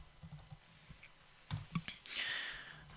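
A few soft keystrokes on a computer keyboard are followed by a sharper press of the enter key, close and quiet, with no talking.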